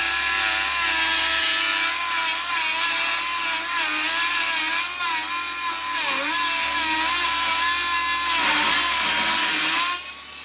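A Dremel rotary tool cuts through flooring indoors while a carpet is swapped for vinyl, giving a loud, steady high-pitched whine that wavers in pitch as the load shifts and carries on alone without pause.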